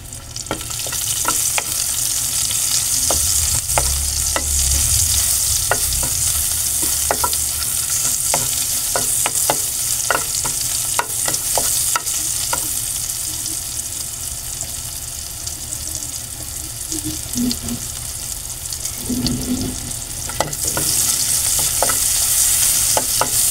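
Onions frying in a pan with a loud, steady sizzle, punctuated by frequent sharp scrapes and clicks of a utensil stirring, close up and continuous throughout.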